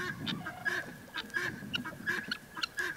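Chickens squawking close by, short honking calls repeated in quick bursts, with no voices.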